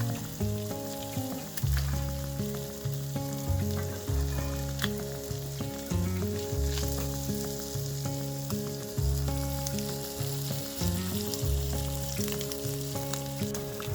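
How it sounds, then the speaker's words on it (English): Corned beef hash fries in a pan with a steady loud sizzle and crackle. The hiss holds constant throughout, close up, and a repeating background tone runs underneath. "Continue cooking and stirring for 3 minutes or until corned beef hash is cooked to your liking."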